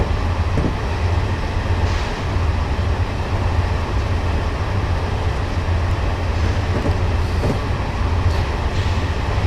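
Steady train rumble from Train Simulator 2015, a continuous low engine drone with rail noise rolling along unbroken, a few faint clicks over the top, no talking.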